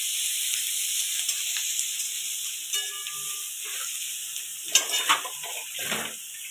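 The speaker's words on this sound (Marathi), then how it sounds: "कांदा थोडासा परतून घेतला ना" Onion sautéing in a pan gives a steady low sizzle and hiss, with a few light scrapes and clinks of stirring near the end.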